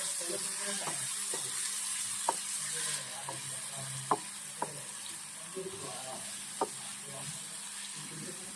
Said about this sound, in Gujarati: તેલ પણ ગરમ થઈ ગયું છે તો આપણે આ પનીર નાખ્યું તેલમાં નાખી દઈશું આપણે પનીરનો શેકી લઈશું